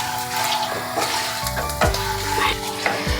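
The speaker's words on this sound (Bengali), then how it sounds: "হিংটা দিয়ে আমি কষিয়ে নেব।" Asafoetida and ginger fry in oil in a pan, a close, crackling sizzle broken by several scraping stirs of a spatula against the metal.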